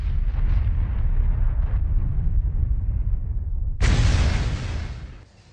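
A monster fire slam explosion in Mario Sports Mix: a steady roaring crowd or game bed, then one abrupt, loud, full-range blast that holds for over a second before fading out.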